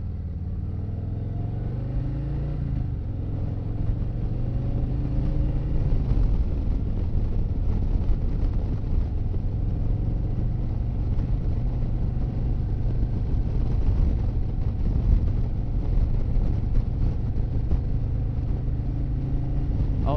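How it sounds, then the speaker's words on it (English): A 2024 Harley-Davidson Fat Boy motorcycle cruising along a winding road, its low engine rumble steady and close throughout with heavy wind noise over the microphone. "This road has a little bit of twisties, so we'll test this out."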